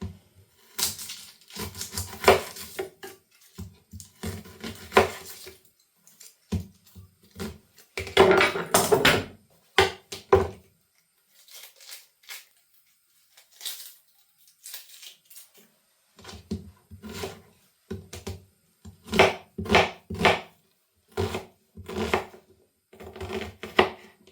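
Sharp, rapid knife chops through an onion on a cutting board come in quick bursts, pausing briefly midway before resuming at a steady pace.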